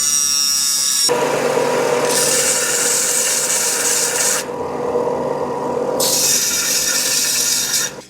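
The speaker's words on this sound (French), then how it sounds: "il faut juste limer les pions" Pins on a 23cc engine crankcase for a 1/5-scale competition RC buggy being filed by hand, a loud, continuous rasping scrape in long strokes with brief changes in pitch, close up and without talk.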